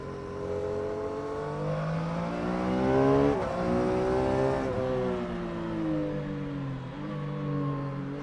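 A Triumph Tiger Sport 800 motorcycle engine revs and pulls steadily while riding, its pitch rising and falling through gear changes in a loud, close, continuous drone with no talk.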